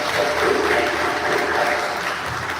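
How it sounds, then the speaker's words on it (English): Church congregation applauding, a dense, even wash of many hands clapping close by for a couple of seconds with no voices over it. "Let's give her a round of applause."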